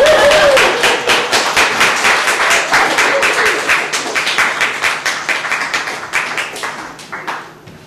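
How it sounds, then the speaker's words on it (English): An audience claps after a poetry reading, a loud burst of dense applause at its peak that gradually thins into scattered individual claps and fades out over several seconds. "You may now applaud."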